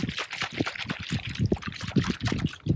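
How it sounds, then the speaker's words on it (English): Water leaks from a ball cock valve in a cattle trough, trickling and dribbling in a close, continuous, gurgling patter. "I thought I'd look at the ball cock because the water's leaking out of it"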